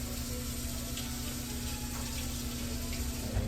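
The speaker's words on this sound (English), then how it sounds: "So let me just wash my spoon off here." Steady running water from a kitchen tap as a spoon is rinsed off during soup cooking, a continuous close hiss with a low hum underneath and no talking.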